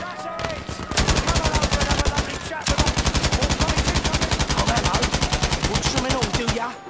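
Rapid automatic gunfire in the Battlefield 5 campaign, long sustained bursts of evenly spaced loud shots with a short gap before the firing resumes, and a voice talking faintly beneath.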